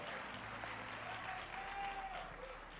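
A church congregation applauding during a worship service, steady broad clapping at a fairly quiet level throughout, with faint voices mixed in.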